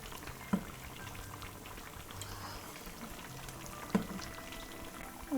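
Potato tikki frying slowly in bubbling oil over a low flame, giving a steady soft bubbling hiss with a couple of faint clicks, alone and close.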